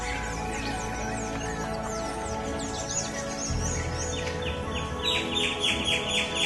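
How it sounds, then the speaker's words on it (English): Birds sing from treetops near Santiago Atitlan, with many overlapping chirps and tweets at varied pitches, steady and moderately close, with no talk. "birds sing."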